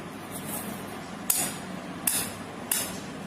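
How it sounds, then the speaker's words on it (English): A piece of copper metal struck with a hammer three times, each sharp metallic hit followed by a brief high ring, fairly quiet over low room noise. "this copper metal, when I am hitting it with some element, then it is producing sound."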